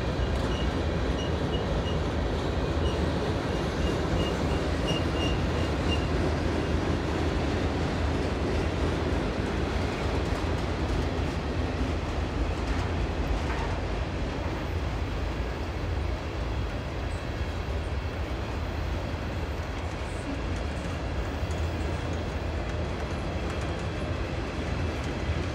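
A train crossing a rock viaduct at a power plant gives off a steady, heavy rumble with faint wheel clatter. It stays loud and unbroken for the whole stretch, with no voices.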